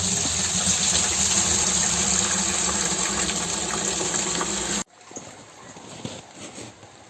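Maple sap water gushes steadily into a filtering reservoir, a loud continuous rush that cuts off abruptly, leaving faint trickling and handling sounds.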